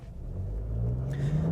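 A 2025 Nissan Rogue Platinum with a turbo engine and CVT pulls away from a standstill, its engine note rising slowly and steadily from a low rumble as the revs climb, heard from inside the cabin.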